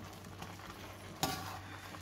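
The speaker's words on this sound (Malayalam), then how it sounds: "ഇനി നമ്മൾ ഇളക്കുമ്പോൾ ഇങ്ങനെ ഉടച്ച് ഉടച്ച് ഇളക്കണം" A pan of yam and plantain puzhukku being stirred and mashed, a soft steady scraping with faint sizzle and one sharper utensil knock partway through.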